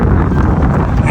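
Heavy wind buffets the microphone in a constant low roar, loud and close throughout, with no clear voices.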